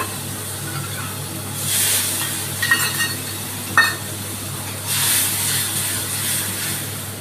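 Fenugreek seeds and ground spice paste dropped into hot oil in a kitchen, giving two bursts of loud, crackling sizzle with a few metal clinks of a utensil between them, and no talking.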